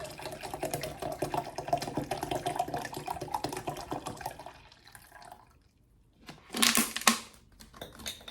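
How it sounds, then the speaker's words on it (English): Alkaline water being poured into a hibiscus sea moss lemonade, a steady trickling splash for several seconds that fades out, then a brief louder gush of liquid near the end. "we're gonna add in some more water"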